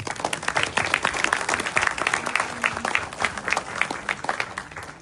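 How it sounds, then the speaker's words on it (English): Audience applause fills a hall at an award presentation at the DC South Asian Film Festival honoring the film Sarhadein: dense, steady clapping from many hands, loud and sustained throughout, with faint voices mixed in. "Please give them a huge round of applause."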